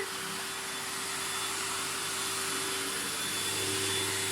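A vacuum cleaner drones steadily and loudly throughout, a constant motor whine with a broad rushing hiss and no voices.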